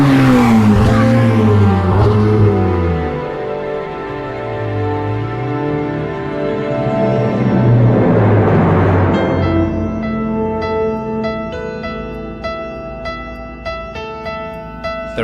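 A Ferrari 488 Pista engine roars loud and close, revving up and down through gear changes with squealing tires, then settles into a steady high drone over a faint, even rhythmic tonal pattern.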